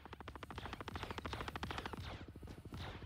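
Rapid automatic gunfire in the space sim Star Citizen, a fast steady burst of shots near a Merlin ship, followed by a few scattered shots, loud and close with no talking over it.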